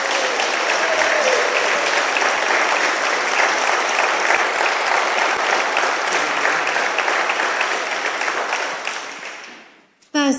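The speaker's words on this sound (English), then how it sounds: "Can we give Vicky a big warm welcome and round of applause?" Crowd applause at a public meeting in Huddersfield welcoming a speaker, a loud, continuous roar of clapping sustained for about nine seconds before tapering off and stopping.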